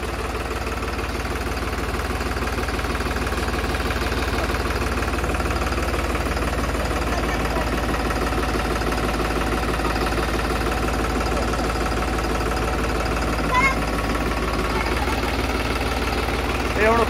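A farm tractor sits idling with a steady, loud, low rumble that barely changes for the whole stretch, apart from a brief knock or two near the end. Voices may be faintly buried under the engine.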